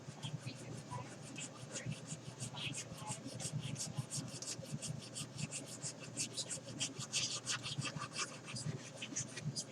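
Sanding sticks rubbing on a 1/32 Trumpeter A-10 Warthog plastic model kit, a quiet continuous scratchy rasp of rapid back-and-forth strokes up close.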